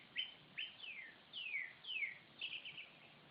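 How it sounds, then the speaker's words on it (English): Birds chirp in a quiet backyard beside a pool, a series of short descending whistled calls repeating every half second or so, clear but moderately distant with no talking. "Listen to the birds."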